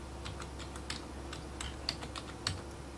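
Computer keyboard typing a folder name, a quiet run of separate key clicks at an uneven pace with a couple of slightly sharper taps over a low steady hum.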